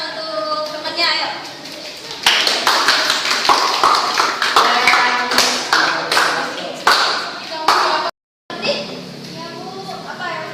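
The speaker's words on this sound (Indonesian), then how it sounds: "beri tepuk tangan untuk temannya" A class of students applauds a classmate after a science lesson on atomic theory, with uneven bursts of clapping and taps in a classroom while children's voices chatter over them, then a short silent gap before the noise returns.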